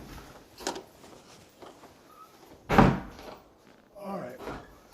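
A loose-hinged interior door in a house under home inspection is moved, giving one loud thump near the middle, with softer knocks and handling sounds around it and someone talking at intervals.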